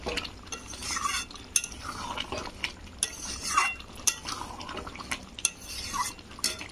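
A spoon stirs a jackfruit and chickpea curry in a pot, giving repeated scraping strokes and sharp metallic clinks against the rim at an uneven rhythm, close and without talking.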